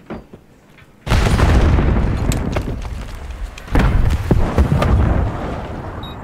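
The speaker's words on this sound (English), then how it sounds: "Grenade out." A grenade goes off in Call of Duty Black Ops 6, a loud sudden boom that rolls into a long rumbling tail, followed by a second heavy blast and scattered debris crackle.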